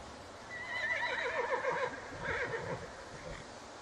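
A horse whinnies twice in a row, a shaky, quavering neigh at moderate distance with faint background noise.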